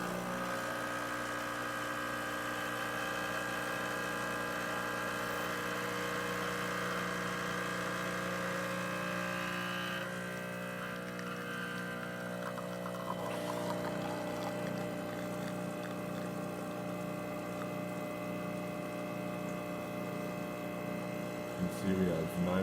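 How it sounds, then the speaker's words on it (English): An Expobar espresso machine pulls a test shot after a full tune-up, giving a steady electric pump hum and drone that shifts tone partway through and ends with a few clicks, with speech faintly underneath. "So let's go ahead and test the machine."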